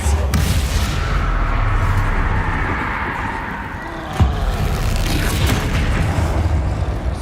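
Confringo spell explosion in the video game Hogwarts Legacy, a sharp boom and burst rising out of a dense, continuous rumble of game noise.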